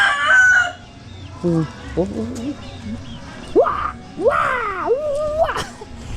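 A rooster crows several times nearby, with clucking and rising calls between them and a soft voice at the start.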